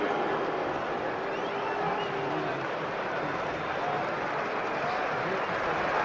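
Dense, steady roar of a large football crowd at Newcastle United versus Chelsea in the Premier League, booing Chelsea's Cucurella, a continuous broad wash of voices throughout with no distinct speech.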